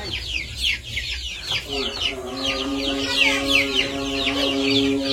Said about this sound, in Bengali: এই যে মুরগি নিয়ে আইসা বসছে